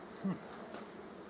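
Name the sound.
honey bees buzzing around a beehive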